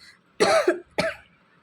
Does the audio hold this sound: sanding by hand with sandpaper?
no